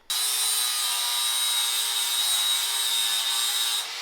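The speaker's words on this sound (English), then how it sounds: "Just welds like this can be flapped back because we don't need to see those." Flap disc grinding back welds on a steel tray for a custom winch bumper on a Land Rover D2, a steady, loud, high whine that runs unbroken for nearly the whole span before easing off at the end.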